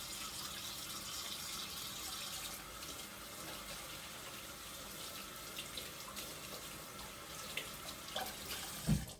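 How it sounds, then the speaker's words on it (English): Hands are washed under a running kitchen tap while making cinnamon rolls, producing a steady, fairly quiet stream of water with a few small splashes and a clunk near the end, with no talking. "So I'm just going to wash my hands real good first."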